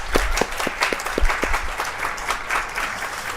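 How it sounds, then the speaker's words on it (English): An audience applauds a softball team, tied for fifth in the nation, at a campus celebration, with steady clapping that begins strong and gradually thins over a few seconds. "Let's give them a big round of applause."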